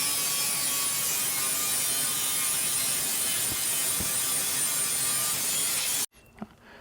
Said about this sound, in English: I'm going to go ahead and throw on this flap disc and just clean up the entire edge.